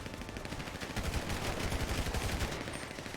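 Dense, continuous gunfire from the top-down game GTA 2, a sustained fusillade of rapid shots crowding together for the whole stretch, loud and close with no voices over it.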